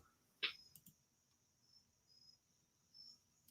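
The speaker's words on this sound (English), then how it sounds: "All I hear is the damn cricket." A cricket chirps faintly with a thin, high steady trill in a quiet room, broken by a brief louder click early on and soft pulses later, with no one speaking.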